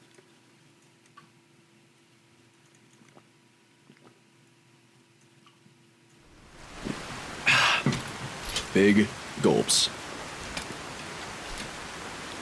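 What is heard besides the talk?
rain falling in the video game Skyrim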